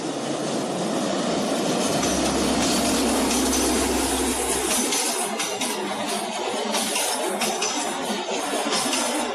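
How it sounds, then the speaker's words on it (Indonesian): Sibinuang passenger train crossing the Air Tawar bridge near Padang, West Sumatra: a loud, steady roar and rumble of wheels on the bridge, with a deep low hum for the first few seconds, continuous and close throughout. "Oke Don, ini dia kertapi si Binuang lagi melewati jembatan ini."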